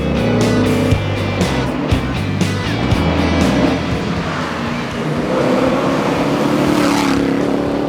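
A Ford Falcon XE V8 rally car at speed on a Targa Tasmania tarmac stage: a loud, sustained engine roar with shifting pitch as it accelerates, passing nearby with no talking over it.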